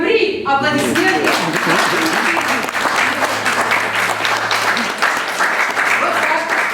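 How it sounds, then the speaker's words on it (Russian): Loud, continuous audience applause at a Chuvash cultural festival day in Nalchik, many hands clapping close by in a dense wash, with a host's voice briefly at the start and music or talk faintly underneath. "Аплодисменты!"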